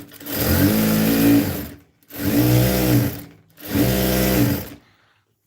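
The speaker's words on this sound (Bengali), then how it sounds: "লাইটে থাকতে থাকতে দুই সাইডটা সেলাই করে নিচ্ছি" An electric sewing machine stitches palazzo pants in three fast, loud whirring bursts of roughly a second and a half each, separated by brief pauses, with a fading mechanical tail at the end.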